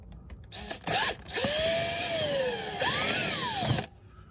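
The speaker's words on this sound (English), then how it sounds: "I'm gonna drill another hole." A power drill whirs in short bursts, then runs with a rising and falling whine as it bores a hole for mounting a video doorbell, loud and close.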